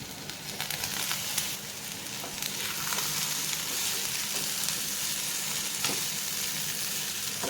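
Potatoes for a potato roast fry in a pan on a low flame, giving a steady, close sizzle and crackle with occasional stirring scrapes, no talking over it.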